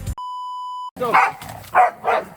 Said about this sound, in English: Doggies. Doggies.